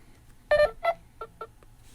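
A Nothing Phone 3 ringtone plays an incoming-call pattern of short electronic beeps, two louder ones followed by several quieter blips, fairly faint and in a quiet room.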